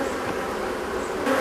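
Honeybees buzzing on a hive frame holding larvae, a dense steady drone close to the microphone, loud and continuous with no talk.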